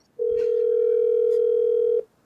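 A single steady telephone tone, like a call ringing out unanswered during a trivia match, holds loud and unbroken for nearly two seconds and then cuts off cleanly.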